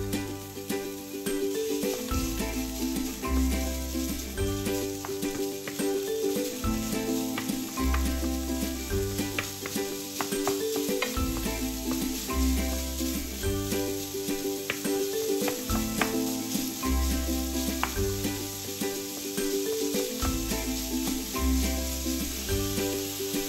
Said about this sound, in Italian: aggiungiamo il macinato e facciamo rosolare a fiamma vivace